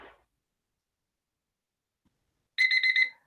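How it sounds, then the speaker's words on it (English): A classroom timer alarm goes off in a quick burst of rapid repeated electronic beeps near the end, loud and close, after a long stretch of near silence. "There's the timer."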